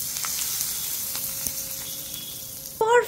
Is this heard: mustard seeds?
yes